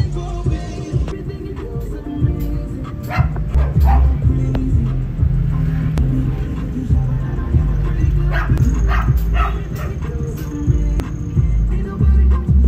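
A dog barks and yips repeatedly in short bursts nearby, over a noisy background with a running engine and people talking.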